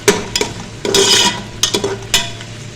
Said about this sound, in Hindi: और अब हम इसमें डाल देंगे एक छोटा प्याज स्लाइस में कटा हुआ।